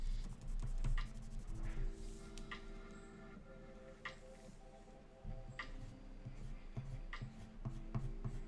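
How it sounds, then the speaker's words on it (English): A colored pencil scratches across paper in quick, energetic strokes while drawing a puppy, soft papery rasps over a steady tonal background. "listen to my pencil hitting the paper"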